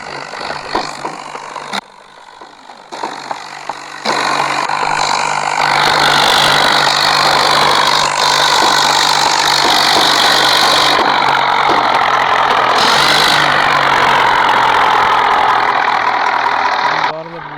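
A tractor engine idles steadily in the open, a continuous low rumble that starts with brief pauses and then holds loud and unbroken for most of the stretch, with people talking over it.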